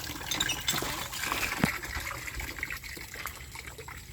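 Water pouring and splashing over a person bathing, a steady close trickle and gush that runs without a break, with no voices.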